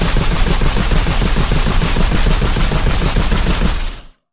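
Rapid automatic weapon fire from Doom, a Heavy Assault Rifle sound effect redesigned for the game, rattles loud and dense for about four seconds, then cuts off abruptly.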